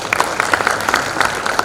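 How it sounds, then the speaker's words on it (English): Short burst of audience clapping at an international economics and business conference, a hall full of hands applauding together at moderate distance, with a few individual claps standing out. "Please give applause."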